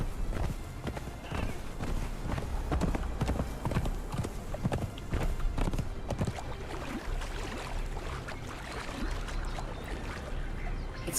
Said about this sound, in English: It's kind of slow to cross a body of water when you're on your horse.